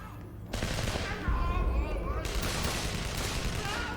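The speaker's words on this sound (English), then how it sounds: "Could you please ask them to stop shooting at me?" Rapid bursts of gunfire in a Spider-Man video game, a dense volley of shots erupting after a short quiet opening and continuing loudly to the end, with voices faintly mixed in.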